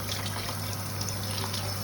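Rice being rinsed in a pot under running water, a steady close trickling and splashing wash of water with a constant low hum and no voices.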